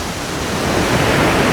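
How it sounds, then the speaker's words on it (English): Rushing water at the base of Elephant Waterfall near Dalat, a steady broadband roar that holds close and loud throughout, growing slightly fuller toward the end, with no voices. "So I'm now at the base of Elephant Waterfall."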